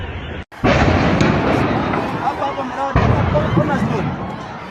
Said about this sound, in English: A series of terrifying explosions ripped through the air, shaking the ground